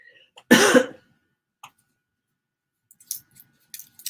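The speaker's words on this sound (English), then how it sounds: "oh, this cough is just relentless" A woman with a persistent cough lets out one harsh cough up close, followed by a few faint small clicks and throat sounds in an otherwise quiet room.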